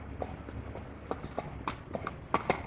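A ridden mare's hooves clip-clop at a walk, roughly a dozen uneven thuds at close range, the last couple sharper and louder, with no voices over them.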